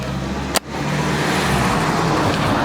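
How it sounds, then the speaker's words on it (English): Continuous loud road noise of cars rushing by close, with a sharp click early on and a steady broadband roar afterward. "more cars passing by"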